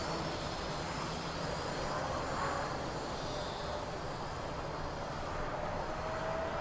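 A Hubsan H502E drone flies at a distance, giving a steady, broadband whirring hiss that holds at an even level throughout with no talk.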